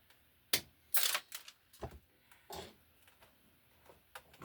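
Copper conductor being snipped to length while wiring a Tesla EV charger with 6/2 cable on a 50 amp 240 volt circuit: several sharp, close clicks and short metallic snaps spaced unevenly, with no talking.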